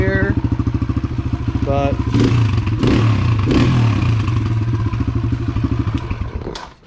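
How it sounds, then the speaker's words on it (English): A Kawasaki KLX140 dirt bike on its stock exhaust with the spark arrestor torn out idles with a steady, loud, close putter, rising in a few quick revs and clattering bursts, while someone talks briefly near the end. "She's running pretty good. Still got the stock exhaust"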